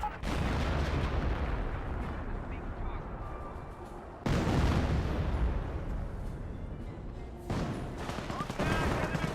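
Mortar firing in the WW2 strategy game Company of Heroes, heavy booming launches and blasts over steady battlefield gunfire, with sharp loud bursts at intervals.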